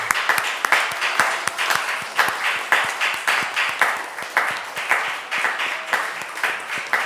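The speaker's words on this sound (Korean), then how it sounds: "손뼉으로 축복하겠습니다." Congregation in a church sanctuary claps in unison with a steady, rhythmic beat, loud and close, continuing without pause as a welcome.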